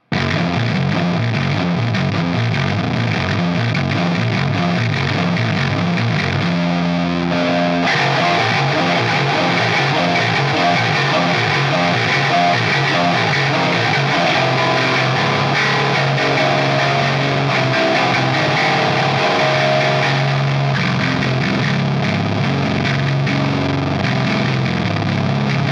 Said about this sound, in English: this is how bass as a guitar sounds